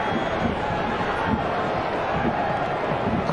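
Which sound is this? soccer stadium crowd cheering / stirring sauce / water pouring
soccer stadium crowd cheering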